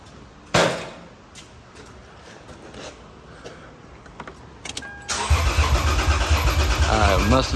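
A 2003 Lexus IS 300 with no spark is cranked and fails to start, a loud whirring crank after an earlier sharp thump, running continuously to the end of the clip.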